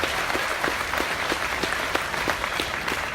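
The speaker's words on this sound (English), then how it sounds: "Please give Peyton a big round of applause." Audience applause at the Arizona National livestock show grand drive, a steady round of clapping with sharper individual claps standing out, continuous through the whole stretch.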